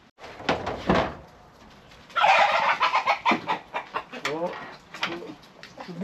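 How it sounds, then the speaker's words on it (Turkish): Chickens and a rooster clucking around a village farmyard in Driedorf, Germany, with repeated close, busy clucks and calls running through the whole stretch, loudest in a dense burst midway, while people talk at times. "Şu arkadaki horoz."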